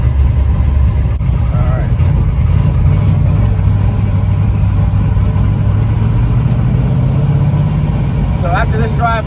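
A 572 big block Camaro engine runs loudly throughout while driving, a steady low rumble holding under occasional brief speech, with rising revs near the end.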